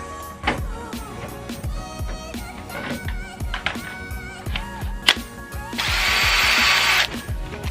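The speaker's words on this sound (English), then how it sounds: "gotta undo the screws that are on here." Close, loud power drill repeatedly revving in short bursts to back out screws during a repair, with clicks and knocks between pulls and one longer sustained whir near the end.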